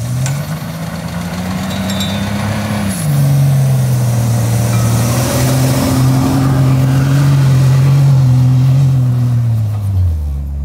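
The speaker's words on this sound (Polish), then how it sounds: "tutaj jest silnik, ale benzynowy, oczywiście od BMW. 3-litrowa benzyna" The BMW three-litre petrol engine of an Ineos Grenadier, nearly 300 horsepower, runs loud and close, its low drone rising and holding as it revs, then dropping off near the end.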